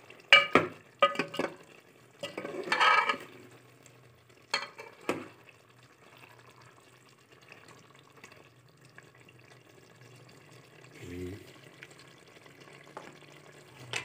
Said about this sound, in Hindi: थोड़ा सा इसको भूनना